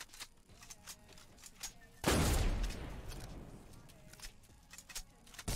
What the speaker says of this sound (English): Scout rifle.